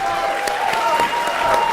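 Audience at a wrestling show applauds in a dense, steady wash of clapping that lasts throughout, with crowd voices mixed in.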